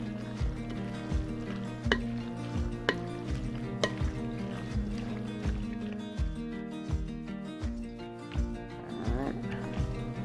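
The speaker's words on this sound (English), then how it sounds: "And then we're just gonna mix this up and see where we get." A spoon stirs potato salad with yellow mustard in a bowl, soft mixing sounds faint beneath steady background music with a regular beat.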